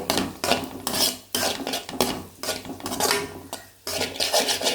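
Egg and rice mixture stirred in a pan, metal spoon scraping in about five distinct bursts of clattering strokes separated by brief pauses, close and loud with no voices.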